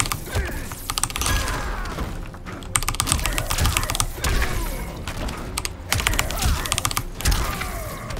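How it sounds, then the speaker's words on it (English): Rapid bursts of keystrokes on a Corsair K63 keyboard during a PC Mortal Kombat 11 speedrun, clusters of sharp clicks repeating every second or so with brief pauses, loud and close amid game sounds. "Keyboard is a Corsair K63."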